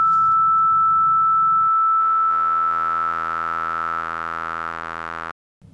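FM synthesizer operator tone shaped by CSM and SSG-EG sync, a steady bright pitched tone with rich stacked harmonics that holds for about five seconds and then cuts off abruptly.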